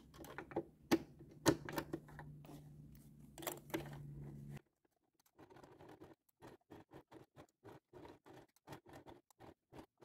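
A sewing machine fitted with a piping presser foot stitches a school pencil case. A steady motor hum and rapid needle clatter run for several seconds, stop, then give way to quieter, evenly spaced ticking stitches.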